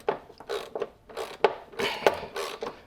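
Open-end wrench tightening the pulley on a Toro Timemaster mower: a series of short, close metallic ratcheting clicks and creaks in irregular bursts, with no talk.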